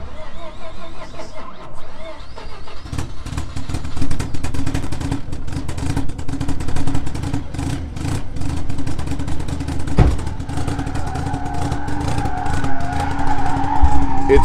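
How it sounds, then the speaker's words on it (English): A modified car's engine cold-starts and settles into a loud, rough idle with crackling exhaust, heard from some distance back, the steady drone rising slightly toward the end. "By the way, this is a cold start."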